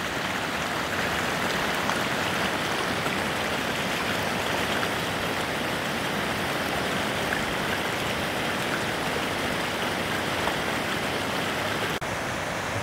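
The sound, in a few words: flowing water of man-made mill stream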